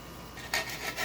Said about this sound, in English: and just sand it down